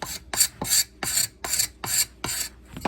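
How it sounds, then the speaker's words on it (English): Wood is hand-sanded with 80 grit sandpaper while a billy club is shaped, giving seven even, rasping back-and-forth strokes roughly every half second, close and loud with no talk. "sandpaper, I find that 80 grit kind of gets rid of that really, really quickly"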